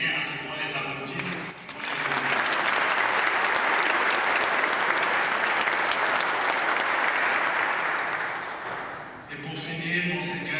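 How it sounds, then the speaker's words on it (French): An audience at a festive celebration breaks into a long burst of applause, dense and sustained for several seconds, with a voice speaking just before it starts and again as it fades. "Je tiens à ce qu'on les applaudisse."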